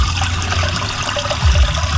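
Water is poured into a farm sprayer tank on a dwarf coconut farm, making a brief, close splashing trickle that swells near the end.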